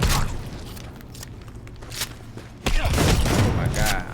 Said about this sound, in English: Come on, shotgun, do some damage.